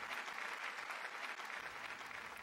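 A studio audience claps faintly for a show guest, a thin, even patter of applause heard from a distance throughout.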